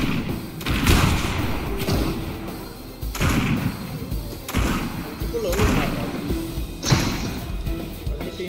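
Bombs exploding in the video game Fortnite, heard as a series of muffled booms and thuds about once a second under ongoing talking voices.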